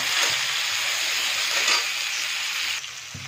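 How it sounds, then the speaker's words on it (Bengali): Onion and tomato fry in a pan with a steady, close sizzle and hiss, with faint stirring knocks underneath. "টমেটো পেঁয়াজটা আরও ভালো করে ভেজে নেব"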